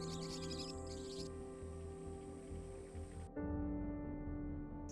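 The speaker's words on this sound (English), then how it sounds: "Parrots, a noisy start to day 17." Parrots calling at a riverbank camp in the upper Hoanib in Namibia at daybreak, a faint, steady stream of chirps and tonal calls with an abrupt shift partway through.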